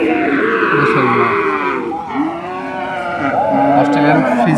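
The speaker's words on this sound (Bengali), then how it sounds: "অস্ট্রেলিয়ান ফ্রিজিয়ান ক্রস গরু।" Australian Friesian cross cattle low at the Hazratpur cattle market, with long wavering bellows rising and falling close by over a busy, murmuring crowd.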